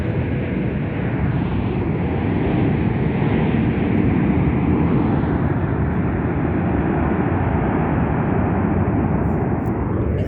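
An Airbus A321-200 airliner at Las Vegas airport roars steadily with a loud, continuous broadband jet engine rumble that holds strong for the whole stretch, with no talk over it.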